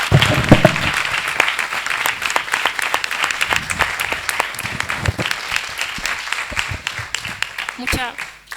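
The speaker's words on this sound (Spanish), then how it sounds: "pido un aplauso general de todo el mundo hacia ti" General audience applause at a University of Granada alumni event, steady dense clapping filling the room for several seconds, with voices mixing in toward the end.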